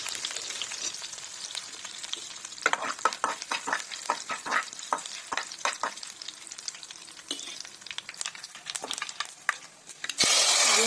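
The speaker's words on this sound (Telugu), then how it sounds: "పోపుకి కావాల్సిన తాలింపులను ఇలా బాగా వేయించాలి" Tempering spices frying in a pan for a moong dal curry, a steady crackling sizzle with sharp pops and stirring scrapes throughout, loud and close with no talk.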